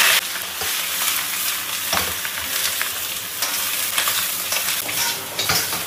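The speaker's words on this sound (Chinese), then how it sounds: "排骨炒干上面的水汽" Pork ribs stir-fried in hot oil with ginger hiss with a steady, loud sizzle, broken by occasional scraping and clinking from stirring in the pan.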